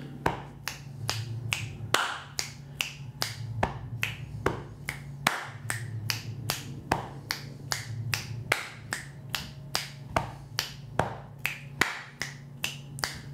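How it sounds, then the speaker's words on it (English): A body percussion groove of finger snaps, hand claps and chest taps, played slowly and evenly as practice; sharp, close, steady repeating hits over a faint low hum. "which hand you use for the snap and the clap and the chest"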